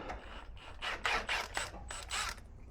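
An old pulley bearing is worked off a zero-turn lawnmower's deck with hand tools. Short rasping, ratcheting metal strokes come in quick rhythmic bursts, close and fairly loud.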